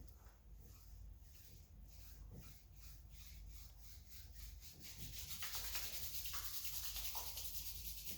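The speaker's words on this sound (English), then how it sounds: "lab number 1 says to rub your hands together" Hands rubbing together in a steady rhythmic swish, the strokes growing quicker and louder as the motion speeds up, close and fairly quiet with no talk.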